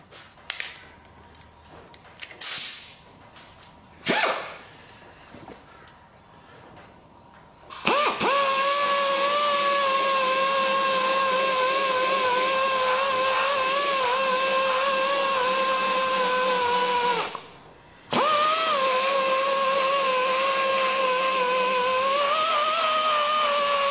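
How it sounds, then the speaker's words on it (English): After a few scattered clicks and knocks, a high-pitched power tool spins up with a roll lock disc and grinds steadily into a corner of an RS2000 car panel, breaking off briefly before whining on again, loud and close. "We've got some sandpaper to get down into the corner there and the roll lock discs."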